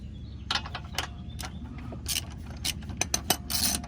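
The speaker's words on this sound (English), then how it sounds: "let me put some pressure on this jack first" A car jack is pumped to lift a G-body Cutlass, giving a series of sharp metallic ratcheting clicks in an uneven rhythm, close up over a low steady background hum.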